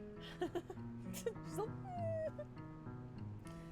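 A voice imitates a whimpering puppy dog with a few short, high, wavering whines and one longer falling whine, faint over steady background music.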